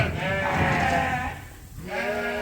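Pregnant ewes in a barn give two drawn-out, wavering bleats close by, separated by a short pause, with no one talking.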